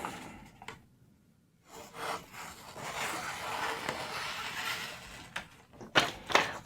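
A freshly sharpened ProTech TR3 folding knife with an S45VN steel blade is drawn through material in a cutting test, giving close, rough slicing and rubbing strokes with irregular pauses and a few sharper scrapes near the end.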